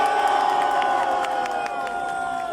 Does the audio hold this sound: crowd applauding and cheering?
yes